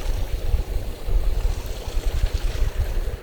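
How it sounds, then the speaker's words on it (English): Thermal water in a Hokkaido hot spring bubbles and churns close by, a rough, surging gurgle with irregular pulses and a breezy outdoor rush. "you can see all the water bubbling and things like that"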